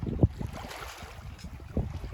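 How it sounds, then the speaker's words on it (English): A sailboat moving slowly at sea, with wind buffeting the microphone and low rushes of water against the hull, two stronger gusts standing out. "It's a slow sail today."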